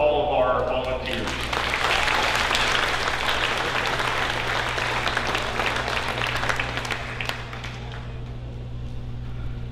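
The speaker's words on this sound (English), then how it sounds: "Can we get one more round of applause for all of our volunteers?" Applause from the audience at a county 4-H tenure and awards ceremony for the volunteers, a sustained crowd clapping that rises after a voice at the start and gradually thins toward the end, over a low steady hum.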